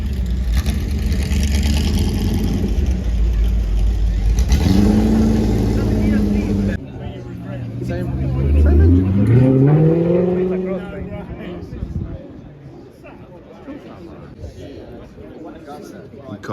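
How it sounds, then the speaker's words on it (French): A first-generation Chevrolet Corvette engine revs nearby, its rising and falling pitch sweeping through two loud bursts, with steady engine and crowd noise beneath and some voices in the background. "Une Corvette de première génération."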